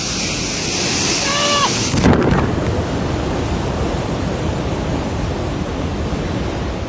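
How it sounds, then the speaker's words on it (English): Storm surf crashing near a breakwater, a loud steady roar of breaking water with wind buffeting the microphone and a brief shout early on. "Once waves like these start building, even experienced boaters can lose control."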